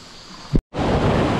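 Ocean waves break on a shallow shore in a loud, rushing wash of surf close to the microphone, briefly cut by a moment of silence before the roar resumes.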